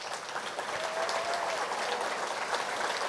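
An audience at a lecture-series event claps for the speaker's family as they rise, a steady, fairly even wash of applause filling the room throughout.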